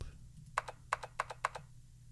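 Quiet computer keyboard typing in the Zero Escape video game 999: four or five distinct short bursts of clicks over a low background hum, with no voices.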